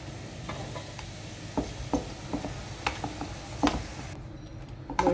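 A spoon stirs sago idli batter with curd in a bowl, making soft wet slaps and light clinks against the sides at an irregular pace over a faint background hiss, with no talking.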